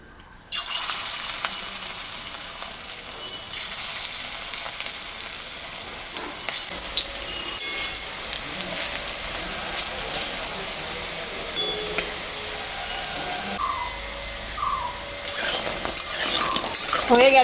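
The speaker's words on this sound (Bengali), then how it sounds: "আমি এখন পকোড়াটা ভাজব" Corn pakoras frying in hot oil, a steady sizzle with stirring and scraping in a home kitchen, continuous and fairly close throughout with no talk.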